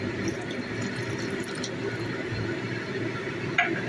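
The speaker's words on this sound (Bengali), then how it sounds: "আমি ডালটা দিয়ে ডালের যে জলটা আমি অন্য পাত্রে রেখেছিলাম ওটাও দিয়ে দিলাম, আর লাউ সেদ্ধর জল একটু ছিল ওটাও দিয়ে দিলাম।" Lentil cooking water and bottle gourd boiling water poured into a pot, a steady close splashing flow with a brief knock near the end.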